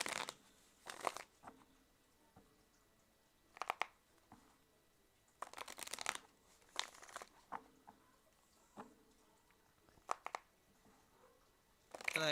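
Tarot cards being shuffled in quick, soft bursts of riffling and patter, separated by pauses, faint and close in a quiet room.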